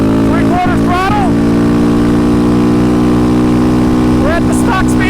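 A Yamaha Raptor 700 ATV engine holds steady at three-quarter throttle, a loud continuous mid-pitched drone with rising revs near the start and again near the end.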